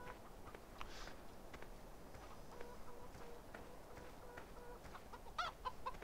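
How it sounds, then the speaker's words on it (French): Chickens in the video game Farming Simulator 2013 cluck quietly over a steady low background, with a few brighter clucks near the end; faint and without talking. "Salut les poules, salut les cotes-cotes."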